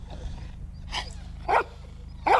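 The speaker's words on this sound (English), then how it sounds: "Will you make him bark, Alicia?" A reactive dog gives three short, sharp barks spaced about half a second apart, moderately close, over a low steady hum in the room.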